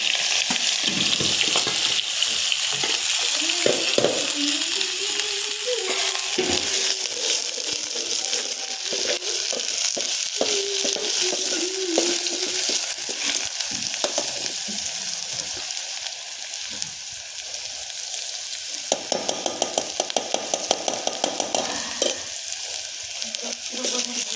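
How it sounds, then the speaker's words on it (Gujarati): Onions frying in a pan for a brinjal bharta, a steady close sizzle and crackle lasting throughout, with occasional stirring clinks and faint talk in the background. "થોડી વાર ડુંગળીને ચડવા દેવાની છે હવે"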